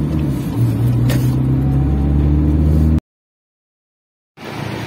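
A car rolls into a parking lot with a steady, loud engine rumble close by for about three seconds, then cuts to silence before the engine noise returns.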